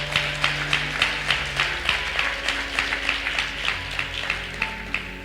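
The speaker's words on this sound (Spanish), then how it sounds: "la recibimos con un fuerte aplauso" A church congregation claps together in a strong, even rhythm of about three claps per second, loud and sustained with a faint hum in the background.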